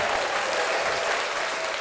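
A short burst of steady applause during a ranching podcast recording, even and unbroken across its brief length with no speech over it.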